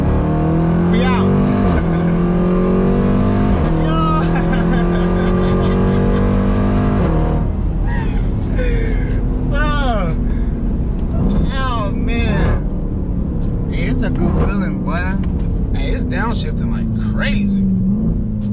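Cabin noise inside a Jeep Trackhawk: a loud, sustained engine drone and road roar, with rising and falling revs as it accelerates, while people talk throughout.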